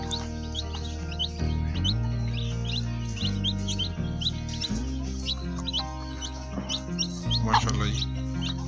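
A hen clucks while newly hatched chicks peep in quick, high repeated chirps, all under steady background music.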